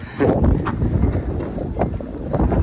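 Wind gusts buffet the microphone at a coastal sea fort near Janjira in a loud, continuous low rumble with a few brief rustles on top, and no one speaks.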